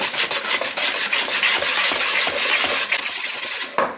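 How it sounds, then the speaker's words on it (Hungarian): A utensil stirs honey into coconut cookie dough in a bowl, giving a steady close rasping scrape with rhythmic strokes and no talking. "Elkeverjük."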